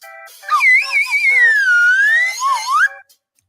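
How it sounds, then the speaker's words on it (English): A slide whistle plays alone as a loud, close effect, its pitch wobbling up and down, sliding low, then sweeping back up before cutting off. "I'm just here to hit the slide whistle."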